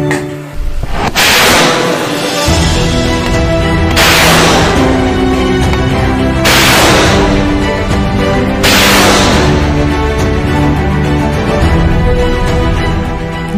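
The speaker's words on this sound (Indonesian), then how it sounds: "Intensitas penembakan 2 roket per detik. Tembak! Tembak!" Rockets from a multiple-launch rocket system fire in four loud, sharp blasts, each a broad burst roughly two seconds apart, over a constant roaring rumble; a short shouted command comes at the start.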